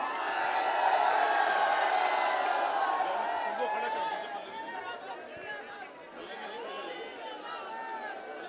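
A large crowd at a political rally makes a dense, steady roar of chatter with scattered shouts, loud at first and then easing slightly but staying continuous.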